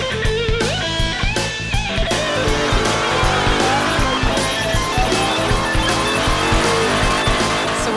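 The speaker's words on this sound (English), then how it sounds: "Cooking a whole bunch of tires out here." Tires squeal through a burnout at a large outdoor biker event, a loud sustained screech over a revving engine and rumbling crowd noise, continuous and near.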